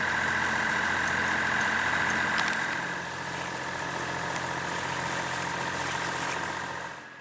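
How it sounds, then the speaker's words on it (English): The sailing yacht Magic Hawk motors under engine up Loch Long in zero wind, a steady, close, droning engine hum that holds evenly throughout with no voices. "We're having to just motor, not even motor sail."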